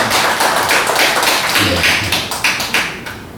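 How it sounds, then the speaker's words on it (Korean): An audience at a Wednesday worship service of a senior pastors' assembly claps to welcome a new steering committee member, a dense, steady patter of many hands that thins into scattered claps near the end. "박수로 환영하겠습니다"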